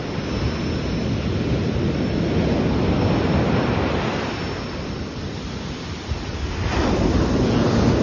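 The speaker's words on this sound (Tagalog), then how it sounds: "Sobrang ano, malakas ang alon." Strong ocean waves roll continuously onto Khao Lak Beach in Thailand after heavy rain overnight, a loud, steady roar of surf mixed with buffeting wind noise on the microphone.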